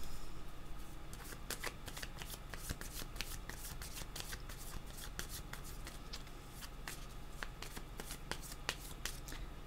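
Tarot cards being shuffled in quick, irregular bursts of crisp riffling and slapping, close and continuous throughout, with no talk over it.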